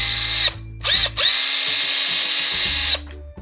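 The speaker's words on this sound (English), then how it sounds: "now's your chance to add some holes with your drill." A power drill boring drainage holes in a garden planting container, whining loudly up to speed in several bursts with brief pauses, close and without talk.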